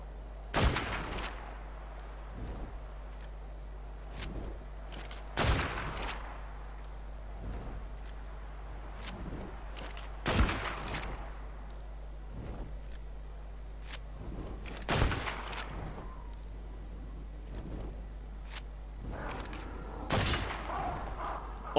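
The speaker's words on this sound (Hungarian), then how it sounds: "Géppuska." Gunfire in the video game ARK: The Island comes as quiet, sharp cracks spaced a few seconds apart over a low steady hum, sometimes doubled in quick pairs.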